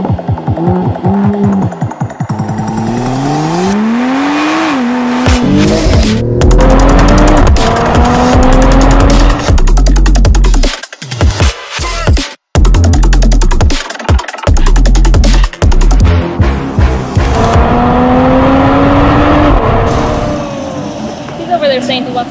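A car accelerating hard across a parking lot, its engine revving loudly and rising in pitch with squealing tires, heard close from inside the car while excited passengers talk and exclaim over the noise.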